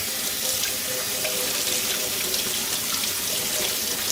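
Running kitchen tap pours steadily over a piece of deboned pork being rinsed in a sink for kalua pig, a close, continuous broadband splash and hiss with no talking.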